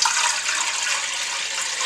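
Four cups of water poured into a cooking pot for pigeon peas, a continuous loud rushing splash that holds steady for the whole stretch, no voices.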